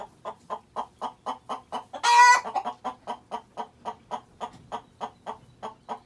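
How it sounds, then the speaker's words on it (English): A hen clucks in a steady, rhythmic series of short repeated calls, close and clear, with one louder squawk breaking in partway through. "Hens can be just as loud as roosters."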